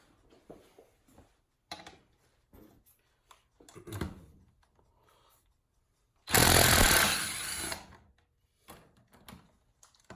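An impact wrench loosens bolts on a Polaris 754 big-bore engine, a single loud buzzing burst of about two seconds after scattered clinks and clatter of tools nearby.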